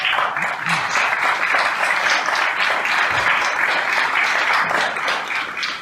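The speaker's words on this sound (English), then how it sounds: "Can we give her a little round of applause?" An audience applauds steadily for several seconds, a dense wash of clapping hands that fades out at the end.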